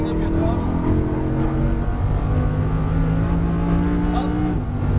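A Lamborghini Huracán on a race track accelerates with a loud, sustained engine roar whose pitch climbs steadily as the throttle builds, while an instructor talks over it.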